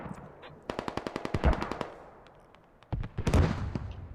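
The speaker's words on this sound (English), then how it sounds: "we're gonna see mortars go non-stop" Mortar fire and explosions boom through a Squad match. A quick, even rattle of rapid shots is followed by a pause, then heavy, loud blasts with rumbling tails.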